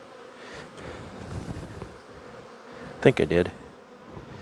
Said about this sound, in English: Boy, there's a lot of bees in here.